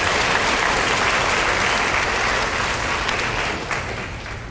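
A high school senior awards ceremony audience applauding scholarship recipients, a dense, sustained round of clapping from a large crowd that tapers slightly near the end.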